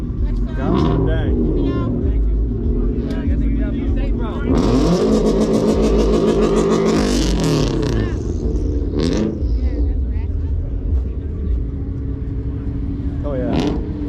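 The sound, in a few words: high-horsepower vehicle engine revving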